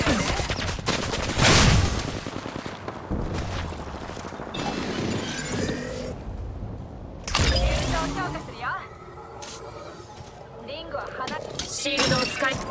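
Gunfire bursts from the video game Apex Legends crackle in rapid volleys over game music and effects, loud at the start and again midway, with a character voice speaking throughout.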